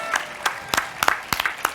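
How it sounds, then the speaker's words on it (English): Scattered hand claps from a crowd at the 2023 Pittsburgh Recovery Walk, an outdoor community event. About eight distinct sharp claps land irregularly over a couple of seconds rather than a full dense ovation. "Give them a round of applause"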